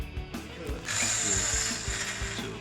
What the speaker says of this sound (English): we're just drilling into the bolt